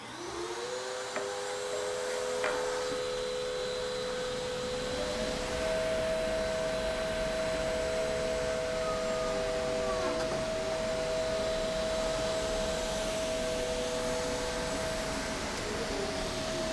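A sanding machine with automated grit selection hums steadily on a piece of cherry wood while a Felder RL200 dust collector draws air, producing a sustained loud whine with rising tonal notes throughout.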